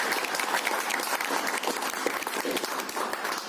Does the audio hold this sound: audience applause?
yes